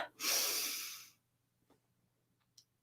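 One deep breath drawn in through the nose, a close, airy hissing inhale lasting about a second, then quiet with a couple of faint small sounds.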